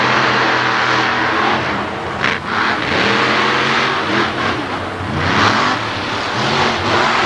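A race truck accelerates hard down a dirt drag strip, its engine roaring loud and close with rising revs and a brief dip in the middle of the pass.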